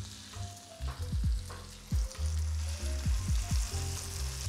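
Lamb and crushed garlic fry in a pan with a soft steady sizzle, interrupted by several low thumps and scraping clatters as the pan and pieces are moved.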